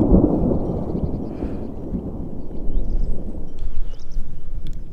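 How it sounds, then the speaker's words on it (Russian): Deep, rolling thunder of an early spring storm in late March, a low rumble that swells at the start, fades, then builds again with wind buffeting the microphone. "Первый гром."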